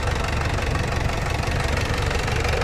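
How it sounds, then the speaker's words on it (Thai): A six-wheel truck, over twenty years old, idles steadily, its engine running smooth with a dense, constant rumble that stays loud and close throughout, with no talking. "เสียงเครื่องก็ นิ่ม"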